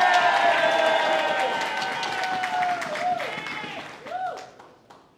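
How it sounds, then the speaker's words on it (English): Audience at a New York mayoral campaign rally applauding and cheering for an assemblywoman, loud clapping and shouts that gradually thin out while voices cut through near the end. "Let's give our assemblywoman a big round of applause."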